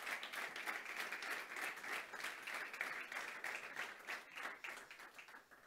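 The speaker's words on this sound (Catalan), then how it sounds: "demanem un fort aplaudiment per ells, la Laia Rojo, el Mario Plaza, la Nora Ferná" An audience at a Catalan football federation presentation event applauds youth football players with sustained, even clapping from a crowd, moderately loud and continuous.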